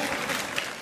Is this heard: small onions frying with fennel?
no